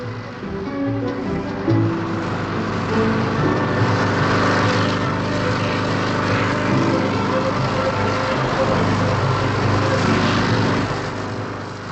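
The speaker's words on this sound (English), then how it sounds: "2 of her 4 gas turbine engines, which provide lift, are tested" Two lift gas turbines on the VA-3 hovercraft run while it sits tethered on tarmac, giving a steady, roaring whine and rushing air that stays fairly even and continuous.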